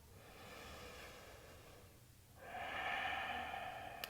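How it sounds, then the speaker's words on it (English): A full, slow breath during a soft yoga flow, a quiet airy inhale that fades, then a fuller, louder exhale after a brief pause. "Take another full breath."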